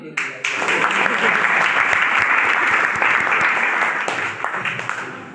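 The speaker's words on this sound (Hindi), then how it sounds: "ताली" A coaching centre audience bursts into loud, dense applause after a farewell speech, many hands clapping close and steady for several seconds before thinning out near the end.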